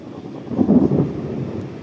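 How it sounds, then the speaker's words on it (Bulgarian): Thunder in a dark, rainy sky: a low, distant rumble swells in the middle of the clip and then eases back to a softer, continuous growl. "там много тъмно и гърми"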